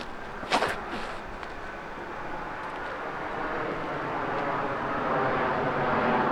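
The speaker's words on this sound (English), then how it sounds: "Excuse the airplane flying overhead." A fixed-wing airplane flies overhead above a disc golf course, a broad, steady distant rumble that slowly swells louder over several seconds, with a few faint nearby clicks and no talking.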